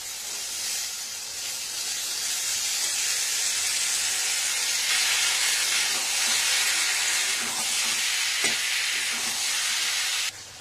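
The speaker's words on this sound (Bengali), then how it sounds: "মটরশুঁটিটা দিয়ে একটু নাড়াচাড়া করা হয়ে গেছে।" Green peas, added to tomatoes for a Bengali cabbage dish, sauté in a pan with a loud, unbroken sizzling hiss that holds steady for about ten seconds, with a faint utensil knock near the end and no talk.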